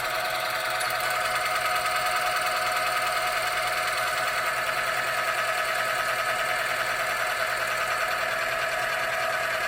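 A friction test machine runs with Mobil 1 oil treated with Runwell additive, giving a steady, loud mechanical whir and rattle that holds unbroken from start to finish with no talking.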